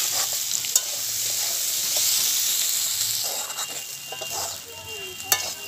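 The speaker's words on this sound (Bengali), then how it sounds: "তেলের সাথে আলুগুলোকে আমি নাড়াচাড়া করে লাল লাল করে ভেজে নিয়েছি।" Potato pieces frying in hot oil with a steady sizzle and hiss, interrupted by occasional utensil scrapes and clinks as they are stirred, fairly quiet and close with no talking.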